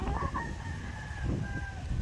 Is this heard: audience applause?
no